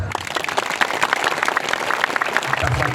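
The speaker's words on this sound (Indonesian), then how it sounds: "Mana tepuk tangannya?" A large crowd at an outdoor Islamic tabligh akbar sermon claps in a short, dense burst of applause that stays fairly loud throughout.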